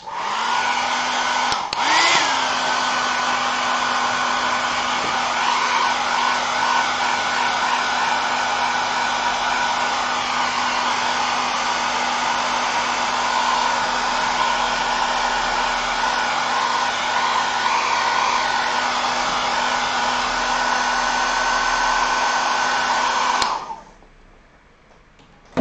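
An airbrush sprays paint onto a 1:48 Tamiya Messerschmitt Bf109 E-4 model, giving a loud, steady, close hiss with a constant tone that runs unbroken for over twenty seconds and then cuts off abruptly.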